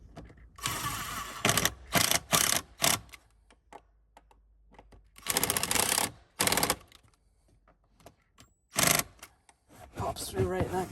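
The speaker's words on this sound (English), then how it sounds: "just using the 2 T40 bolts to bolt that in" Torx T40 bolts driven in to secure the left-hand hip striker while retrofitting rear-facing third-row seats in a Tesla Model S, heard as repeated bursts of close clicking tool ratchet separated by quieter pauses.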